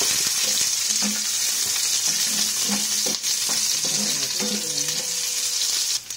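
Garlic and ginger sauté in a pan for a chicken and round bottle gourd dish, giving a steady close sizzle with light stirring and clinks of a utensil throughout.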